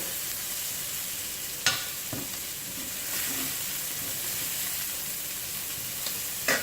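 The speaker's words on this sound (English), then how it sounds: "you want to saute till the onions is translucent" Onions and garlic sautéing in a pan for spicy bourbon chicken, a steady close sizzle broken by a few sharp utensil knocks and scrapes, no voices.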